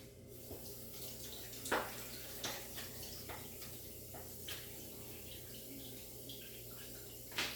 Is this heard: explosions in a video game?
no